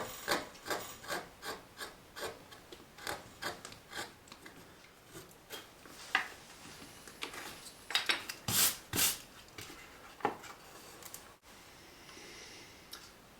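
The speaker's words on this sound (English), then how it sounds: "you can use a bent gouge into trickier corners" A bent gouge carving wood while levelling the background of a carved house number, a series of close, rasping scrapes in an irregular rhythm, some strokes sharper and louder than others.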